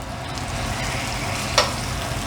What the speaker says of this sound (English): We've got a nice sizzle going on.